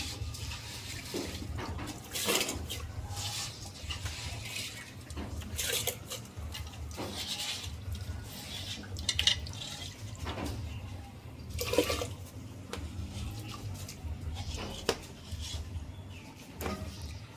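Water is poured and splashes into a pot of washed new-harvest rice being prepared for a Tamil village-style soft rice dish, a steady running, gurgling wash of liquid with intermittent clinks over about seventeen seconds, no talk.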